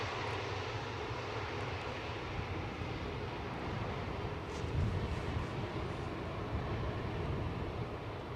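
A KLM Boeing 777 airliner arrives at Amsterdam Schiphol's Polderbaan runway, its engines producing a steady, broad, distant roar that holds at an even level throughout.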